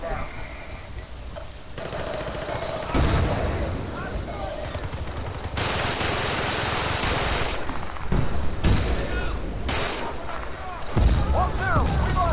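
Gunfire in the video game Battlefield Bad Company 2 during a Conquest match in Arica Harbor, with sustained bursts of rifle shots and distant battle noise rolling through the clip, loud and dense throughout.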